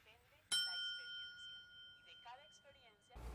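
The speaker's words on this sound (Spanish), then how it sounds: "¿quién diría que una simple campana podría sentirse como una bomba cayendo del cielo?" A single sharp bell strike rings out in a Breaking Bad scene, ringing on with a long, clear tone that fades slowly under quiet speech.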